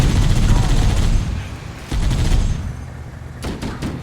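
Dense, loud automatic weapon fire in Halo: Combat Evolved, rapid rattling bursts with booming impacts that continue almost without a break, then sharper separate shots near the end, with combat voices mixed in.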